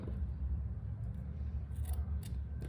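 Scissors cut through strips of t-shirt yarn, measured at 43 centimetres, for a crochet bag. A few crisp snips rise over a steady low rumble, close and moderately loud, with no talking.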